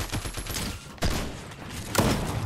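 Gunfire in Fortnite comes as a few loud, punchy shots in quick succession, with bursts near the start and two heavier blasts about a second apart, all close and dense.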